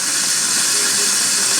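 Hoover steam cleaner, just repaired after descaling blocked pipes, letting out a steady loud hiss of steam that holds constant without a break.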